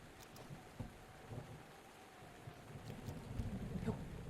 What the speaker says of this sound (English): Can it not be fucking raining?